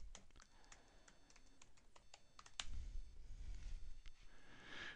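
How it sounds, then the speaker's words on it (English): A password being typed on a computer keyboard: quiet, irregular clicking keystrokes close by, ending in a louder burst of key presses. "I'll type it in now."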